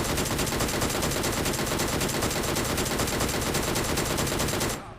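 Rapid automatic gunfire from a scoped weapon in the mobile battle royale game PUBG New State, a dense, loud, unbroken stream of shots lasting several seconds before it stops abruptly.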